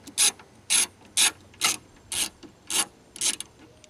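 A ratchet wrench clicks in seven quick bursts while loosening 10mm bolts on a Pontiac Aztek strut assembly, each burst a sharp close-up ratcheting rattle with short pauses between.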